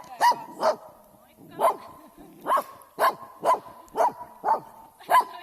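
A dog barks repeatedly during a training session, about ten sharp, evenly spaced barks at close range, with a voice speaking faintly between them.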